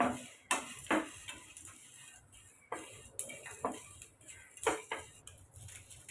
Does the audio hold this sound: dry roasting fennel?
yes